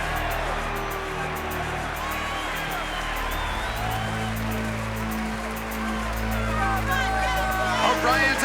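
A large crowd roars and cheers continuously at a boxing fight, a steady dense wall of noise that swells louder near the end, with scattered whoops and voices woven through.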